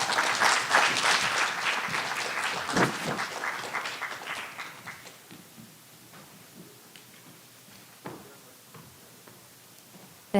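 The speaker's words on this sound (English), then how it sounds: "Please give her a big round of applause." Applause from the audience at an expert panel of a sustainability dialogue, loud and dense at first, then thinning over several seconds into scattered individual claps that trail off toward quiet, with a final sharp sound at the end.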